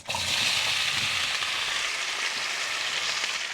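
Chopped onion sizzles steadily in a preheated frying pan for a Georgian satsivi walnut sauce, a close, even hiss that holds from start to finish without pauses.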